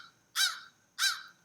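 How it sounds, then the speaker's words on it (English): A big crow perched on a neighbouring house gives two loud, harsh caws about half a second apart, clear and fairly close in otherwise quiet outdoor air. "Ooh, big crow on my neighbor's house."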